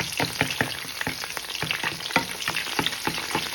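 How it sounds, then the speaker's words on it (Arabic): Bone pieces seasoned with salt and black pepper frying in hot oil poured over them for Tunisian kafteji, a steady close crackling sizzle with rapid irregular pops and spatters throughout. "توا نصب عليه هكا الزيت من الفوق"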